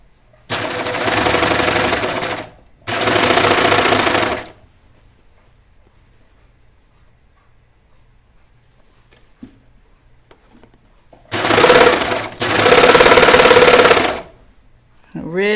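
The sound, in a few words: sewing machine stitching knit T-shirt fabric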